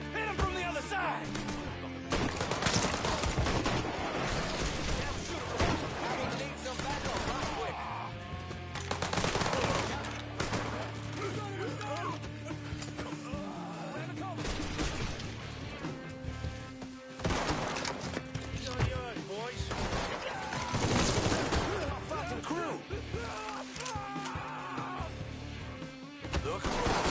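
A Mafia III shootout fills the scene with repeated bursts of automatic and single gunfire, sharp impacts and crashes. Characters shout commands over the firing at times.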